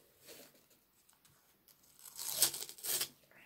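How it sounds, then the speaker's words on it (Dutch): Paper torn away from a surface in a couple of sharp, close ripping bursts near the end, preceded by quieter crinkling handling. "Eigenlijk haal ik het gewoon papier er weer af."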